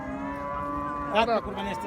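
A single loud moo from a Sahiwal bull rises briefly over a steady background hum.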